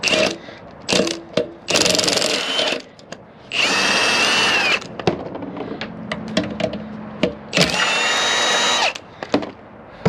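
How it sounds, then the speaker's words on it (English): A 1/2 inch impact gun driving into scrap speakers, loud close bursts of motor whine and hammering rattle, three long runs plus a few short blips with pauses between. "Maybe a 1/2 inch impact is overkill for this, but it's all I got."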